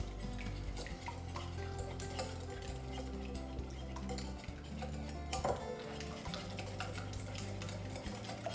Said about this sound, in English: And I'll give that a little whisk around.